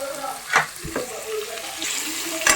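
Food frying in a pan with a crackling sizzle, punctuated by a few louder stirring scrapes and spatters at close range.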